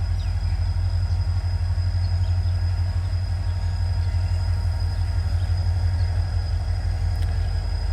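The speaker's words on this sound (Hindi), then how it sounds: "अप साइड की उस पर NLC का GMU 30 लोकोमोटिव जो है वो लीड करके लेके आ रहा है" NLC GMU 30 locomotive hauling a train along the up-side loop line at Padidan railway station, a steady loud low rumble of engine and wheels throughout, close by and continuous.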